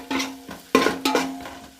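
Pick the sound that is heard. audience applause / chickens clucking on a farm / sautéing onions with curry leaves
sautéing onions with curry leaves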